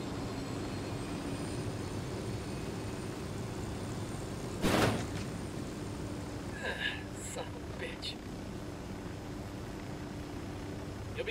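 Aircraft engine drone from the video game Ghost Recon Wildlands, holding a steady rumble throughout, with a brief louder whoosh partway through and some clicks after it, under the game's other sounds.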